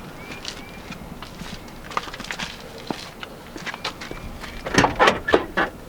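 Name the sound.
squeaky car trunk opening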